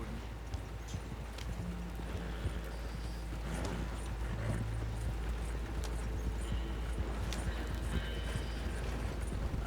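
Horse hooves clip-clop in a steady galloping rhythm in Red Dead Redemption 2, continuous and moderately close, over low game ambience and occasional faint background sounds.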